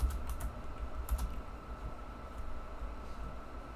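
Soft, irregular typing on a computer keyboard, with clusters of quick key clicks over a quiet room hum and no talk.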